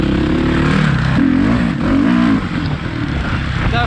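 Suzuki RMZ450 dirt bike engine revving loud and close, with rising and falling pitch sweeps as the throttle is worked, continuous through the whole stretch.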